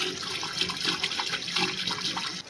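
Rainwater rushing fast down a flooded lane after heavy rain, a steady close splashing and gurgling flow with no voices over it.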